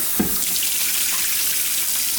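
Food being rinsed under a running kitchen tap for Vietnamese banh canh cua, a steady close wash of flowing water into a sink with a brief splash near the start.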